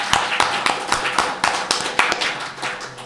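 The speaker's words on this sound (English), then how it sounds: "I'd like to give an applause for you" A small convention crowd at BronyCAN 2015 claps in a loose, rhythmic pattern, sharp individual claps close by, with a faint voice in the background.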